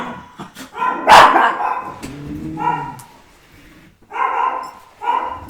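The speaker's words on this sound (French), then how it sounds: "Oui, il y en a un qui aboie, il y a tout le monde qui aboie." Several dogs bark in short, loud, close bursts with uneven pauses between them, including some higher yips, and no voice over them.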